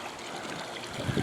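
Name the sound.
swimming pool jets bubbling water after equipment restart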